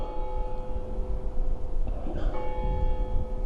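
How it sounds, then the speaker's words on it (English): Church bells ring out over a snowy mountain town, a steady tolling heard from a lookout above the rooftops, moderately loud against a broad background wash with no talk. "Bells going off."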